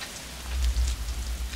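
Rain pours down in the 1994 film The Crow, a dense, loud, continuous hiss over a deep rumbling undertone that swells midway, with no voices.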